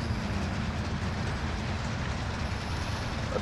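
A train rolls past in the Call of Duty: Modern Warfare video game, a loud, steady, close rumble of rail cars with faint clickety-clack throughout and no speech.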